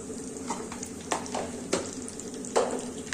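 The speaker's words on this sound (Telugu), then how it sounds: "కొంచెం బాగా వేయించుకోండి" Ingredients for a ridge gourd peel spice powder being dry-roasted in a pan, with a few soft spatula scrapes and stirring strokes over a low, quiet background of frying.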